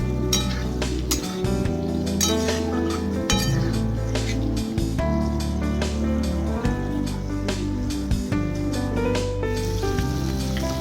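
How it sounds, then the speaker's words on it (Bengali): Fried potatoes tossed over spices in a pan and stirred steadily with a metal spatula, giving repeated sharp clinks and scrapes over a soft sizzle, with music playing underneath throughout. "আর একটা খুন্তি দিয়ে আমি এটা নাড়তে থাকলাম।"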